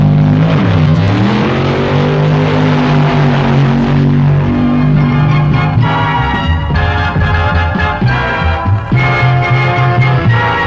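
Drag racing cars roar as they accelerate at the 1965 NHRA Winternationals at the Los Angeles County Fairgrounds, a loud sustained engine drone with shifting pitch mixed into an old film soundtrack.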